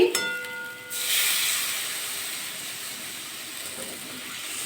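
Hot water poured into a pan of golda chingri (giant prawn) curry gives a sharp burst of hissing steam that then settles into a steady, fainter sizzle, with no talking.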